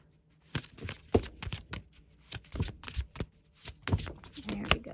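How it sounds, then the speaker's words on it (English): A tarot deck is shuffled by hand in quick, close, crisp bursts of riffling cards, each flurry separated by short pauses, with nothing else underneath. "I didn't really give that a very good shuffle"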